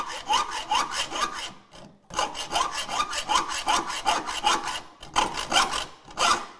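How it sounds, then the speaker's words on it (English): A hacksaw cuts through hardened steel pins held in a vise, giving close, loud, rhythmic rasping strokes in three bursts separated by short pauses. "I'm going to just take a hacksaw."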